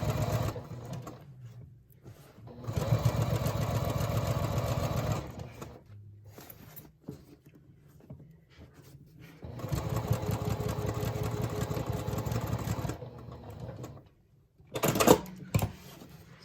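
A sewing machine stitches the lining seam of a Jacinthe handbag in two runs of about three seconds each, close and steady, with quiet handling noise between them and a brief clatter near the end.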